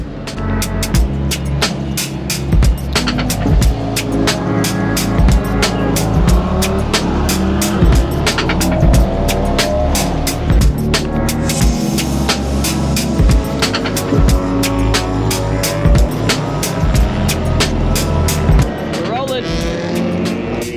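Race cars circulate on track at NOLA Motorsports Park, a loud, throbbing in-car engine drone with repeated gear-shift cuts and rhythmic clicks, while a driver talks over the noise.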